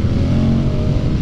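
Moto Guzzi V100 Mandello S opposed V-twin engine with shaft drive, running loud and close in a steady, dense rumble with no talk over it.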